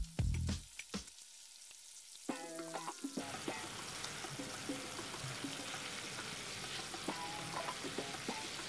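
Leftover marinated meat going into a hot pan, a sharp initial burst of sizzle that settles into a steady, moderately loud frying hiss with occasional clinks and scrapes.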